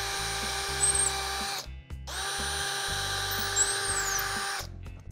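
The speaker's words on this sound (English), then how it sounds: "drill the pilot holes" A power drill whirs at high speed in two sustained bursts while drilling pilot holes, briefly stopping in between, loud and close.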